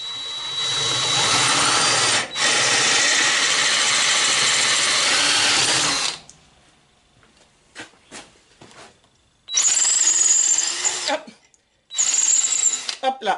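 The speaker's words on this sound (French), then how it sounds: "je perce de plus en plus gros jusqu'à temps que je frotte sur la partie extérieure" Power drill boring out a hinge pin on a Citroën Traction 11B rear trunk hinge with progressively larger bits, a loud steady whine for about six seconds, then quiet handling clicks, followed by two more short bursts of drilling.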